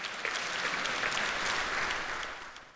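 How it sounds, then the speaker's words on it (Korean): Ruling-party lawmakers applaud during a presidential address in a parliament chamber, a dense burst of clapping lasting a few seconds that swells and then fades, heard from a distance. "윤 대통령이 시정연설을 하는 동안 여당 의원들은 30여 차례 박수를 쳤습니다"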